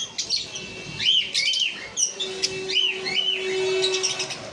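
Violet mask lovebirds chirp nearby in quick, shrill, rising tweets, repeated in bursts, with one thin sustained whistling tone running beneath the calls.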